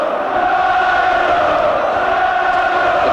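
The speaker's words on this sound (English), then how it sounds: "The crowd very much pro Benn." Boxing arena crowd during a title fight, a loud continuous roar of cheering and shouting spectators filling the space throughout.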